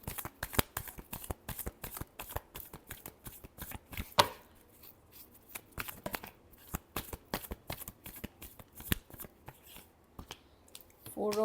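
Tarot cards being shuffled by hand in a steady run of quick riffling slaps and flicks, close and crisp, with soft pauses between bursts and a voice speaking briefly.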